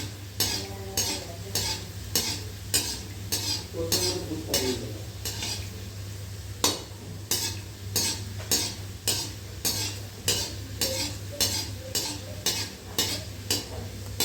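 Angoori gulab jamun dough balls frying in oil, a continuous close sizzle overlaid by a long series of quick rhythmic spoon strokes against the pan, briefly pausing midway before resuming steadily over a low background hum.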